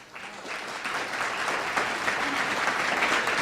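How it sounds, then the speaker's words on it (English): An audience at the Everett Mills launch event applauds a classical guitarist and supporting organizations: steady, dense clapping that starts abruptly and holds evenly for the whole stretch, with no voices over it. "How about a special round of applause"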